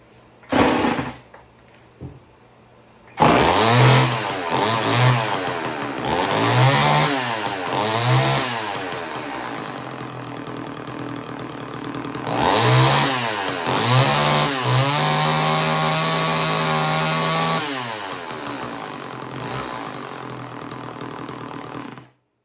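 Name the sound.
chainsaw engine running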